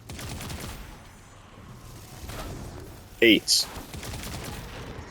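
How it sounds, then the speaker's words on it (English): Sniper rifle fire in a video game, two sharp close shots in quick succession standing out over steady background game noise while a person talks. "I was being shot by 8 different snipers."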